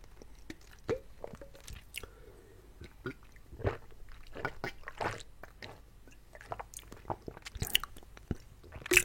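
Lebanese falafel chewed close to the microphone, with soft crunchy bites and wet squishy chewing in irregular bursts, quiet and intimate, alone apart from small mouth sounds.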